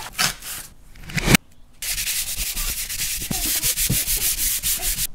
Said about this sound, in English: Given this a pretty good sanding with 120 on the belt sander